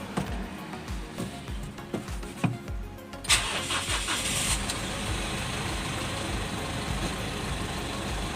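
An Isuzu 1.9 diesel engine with heavy black smoke and oil seepage cranks and catches, then settles into a steady, loud, close idle that carries on alone after a few sharp mechanical clicks.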